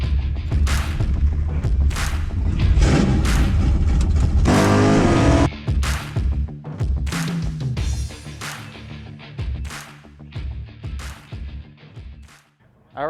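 A 1969 Camaro convertible Stock Eliminator drag car at the Class Racer Nationals in the mountains, engine revving hard in loud repeated bursts, then roaring off and fading with lighter blips toward the end.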